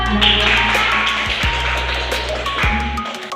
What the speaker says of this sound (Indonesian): Tepuk tangan depan.